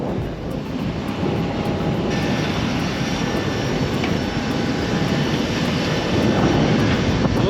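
Steady, loud engine roar of an Alaska Airlines Boeing 737-700 jet flying to Anchorage, a continuous broadband rumble with a faint tonal whine throughout and no talking.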